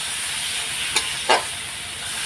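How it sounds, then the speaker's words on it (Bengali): Spices with turmeric and Kashmiri chili powder sauté in a hot pan, a steady hiss with two brief louder bursts of sizzle as the mixture is stirred, with no talk. "সব মশলা রেডি দেওয়া, এখন কষানোর পালা।"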